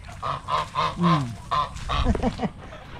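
A goose honks loudly several times in a quick series of nasal calls, followed by a lower, rougher burst of honking close by.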